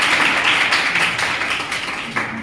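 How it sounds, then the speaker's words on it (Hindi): Steady applause from a school audience greets the vice principal, a dense, even patter of many hands that gradually softens toward the end. "तो आप लोग जय बहादुर सिंह के लिए जोरदार ताली प्राप्त कीजिए"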